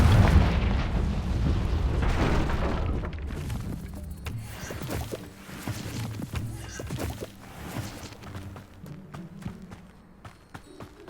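A Confringo fire spell bursting in Hogwarts Legacy: a loud, rumbling explosion with debris that fades over several seconds into scattered crackles and clicks amid game sounds.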